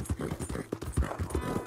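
Horse hooves clip-clop at a steady walking rhythm in the open-world game Red Dead Redemption 2, close and fairly loud, with faint talk mixed underneath.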